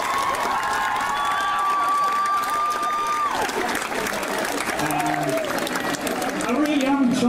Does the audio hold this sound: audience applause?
yes